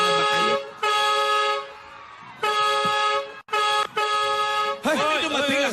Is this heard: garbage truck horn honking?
yes